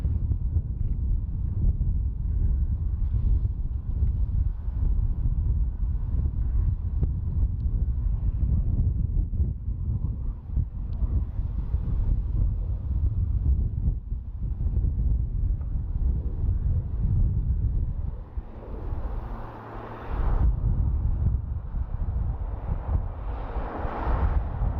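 Steady wind buffeting an outdoor microphone at Dublin Airport, a loud continuous low rumble with gusts rising and falling throughout, briefly easing near the end before picking up again.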